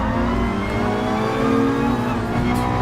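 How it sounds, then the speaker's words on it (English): A car engine in Gran Turismo Sport revs high and steady on a track, a loud, continuous sustained engine note with no voices. "This car really wants to rev high up."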